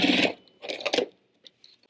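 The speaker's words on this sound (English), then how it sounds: "I sew them together along the short edge" A sewing machine stitching fabric strips together along the short edge for a braid quilt, two short close whirring runs followed by faint clicks.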